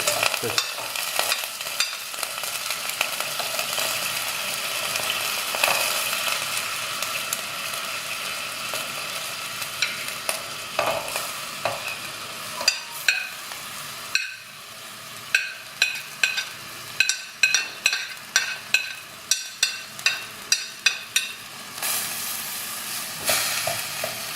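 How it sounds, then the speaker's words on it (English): Ginger sizzles and crackles steadily in a hot pan, with repeated sharp scraping clicks of stirring growing more frequent toward the end. "So ginger has been frying for about 5 to 10 minutes now."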